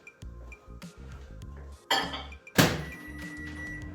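A dish is set into a kitchen microwave with a run of close, sharp clinks and hollow thunks of glass and crockery, followed by a louder knock and the clack of the door.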